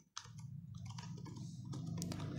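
Quick bursts of typing on a computer keyboard, a fast irregular run of close light key clicks over a low room hum.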